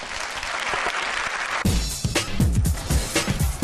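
Applause from an audience at a stage show fills the space, dense steady clapping that shifts partway through into louder, sharper claps closer by, with no talk over it.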